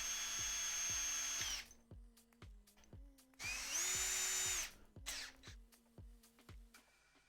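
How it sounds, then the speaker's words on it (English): A power drill driving screws into a sim racing rig, with two long whirring runs and shorter bursts between them, close and loud over steady rhythmic ticking in the background, with no talk. "Let me get those screws in now before this whole thing ends up moving too much."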